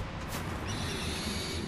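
A tamed owl in Far Cry Primal gives a soft, breathy call that rises briefly, then fades into a steady, quiet wash of ambient wilderness sound.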